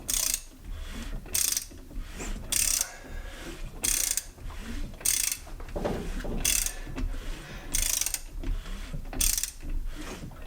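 An engine with aftermarket cylinder heads is turned over by hand to raise a push rod: a string of about eight sharp, ratcheting mechanical bursts at uneven intervals, close by, with quieter clunks between them and no talk.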